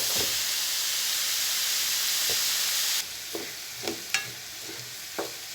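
Vegetables frying in a pan with a constant loud sizzle, then a quieter hiss broken by several sharp stirring scrapes and knocks, with no voices.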